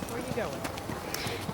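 A horse walks with soft, regular clip-clop hoofbeats that stay close, heard under a person talking the whole time.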